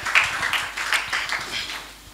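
An audience at a French-language seminar on school, university and career coaching breaks into a short round of applause, a brief dense patter of hand claps that swells quickly and then tapers off.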